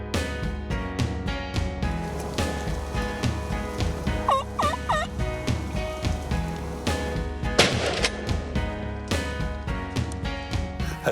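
Wild turkey gobbling during a hunt in Montérégie and Ontario: a few rolling gobble bursts amid a dense patter of rain and rustling, fairly close and loud.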